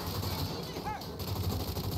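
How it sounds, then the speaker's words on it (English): Submachine gun fire in the Saints Row video game, a continuous rapid rattle of shots mixed with game effects, steady and fairly close throughout the brief span. "There's like so much recoil on this SMG, bro."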